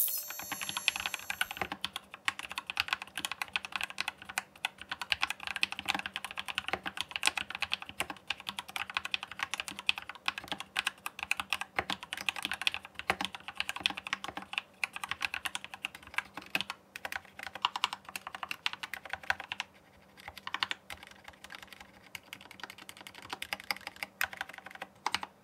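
Rapid clacking of a Corsair K70 Core mechanical keyboard with sound-damping foam, typed on continuously, crisp close keystrokes in an uneven rhythm with brief pauses and no voices.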